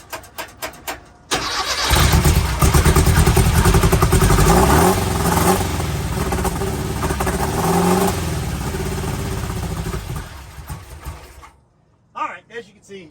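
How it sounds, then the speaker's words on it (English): A 1984 VW Puma GTI 1600 Brazilian sports car, just out of storage with swapped carburetors, cranks and fires, then runs loud and close with a little throttle before cutting off, with short bursts of sound after. "A little bit of throttle."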